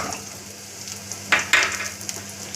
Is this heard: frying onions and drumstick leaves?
yes